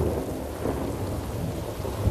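A thunderstorm with steady rain, a loud, dense wash of rainfall over a deep, continuous low rumble of thunder, with no voices.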